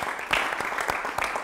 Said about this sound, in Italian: Un applauso a loro, ovviamente, anche per l'importante lavoro che stanno svolgendo.